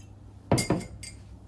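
A spoon stirs a White Russian cocktail over coffee ice cubes in a glass, giving a few quick, close clinks and rattles.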